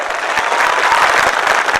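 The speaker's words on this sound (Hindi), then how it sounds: "एक एक आदमी इस बात के लिए ताली बजा करके इनकी तारीफ करे" A political rally crowd bursts into rapid, dense applause in praise of Shabbir Ali, many hands clapping close and loud for a short stretch without talk.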